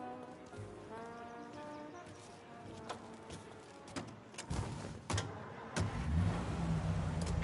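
Car engine from the video game Mafia, a steady mid-pitched drone of a vehicle being driven, with a few sharp knocks and bumps rising toward the end.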